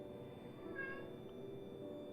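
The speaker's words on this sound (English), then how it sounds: "There's my cat." A cat shut outside a room meows faintly through the door, a single muffled cry from a distance under a quiet steady room hum.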